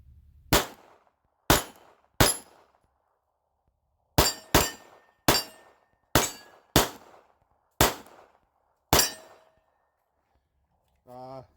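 Pistol shots from a Grand Power Q100 or Glock 48 ring out one at a time, about eleven sharp, loud cracks in uneven clusters, each with a short echoing tail.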